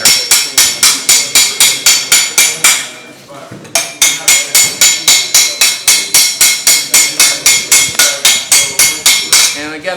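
A hammer rings on metal against an anvil, striking the corners of the piece in a fast, regular run of sharp, loud, close blows, pausing briefly once before resuming the steady rhythm.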